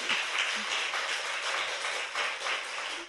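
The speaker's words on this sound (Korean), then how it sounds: "박수!" Studio audience at a Korean political talk show breaks into applause, a dense, steady wash of clapping held at even loudness for about three seconds before easing off at the very end.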